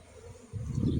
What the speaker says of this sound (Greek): η ένταση του ήχου από τις μέλισσες που πετάγανε